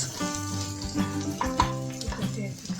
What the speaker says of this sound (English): add garlic paste and saute on low-medium heat for about 1 minute until the raw smell completely goes away and garlic paste turns slightly golden color